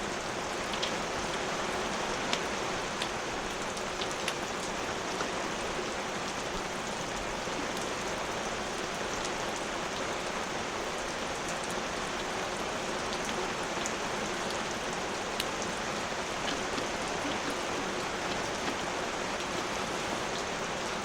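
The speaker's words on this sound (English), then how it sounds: "I'm just going to enjoy this rain." Heavy rain pouring steadily at a campsite during solo camping, a dense, even hiss of drops drumming on surfaces that stays loud and unbroken throughout, with no voices.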